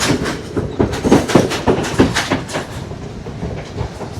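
A train rolls along the railway tracks in Colombo, Sri Lanka, its wheels beating a steady clickety-clack over rail joints, fairly close and loud, then easing into a softer rumble as it passes.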